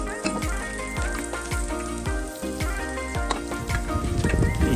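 Garlic sautés in butter in a pan before it gets too hot, a soft continuous sizzle with light bubbling crackle, close up, under a busy background with repeated low thumps.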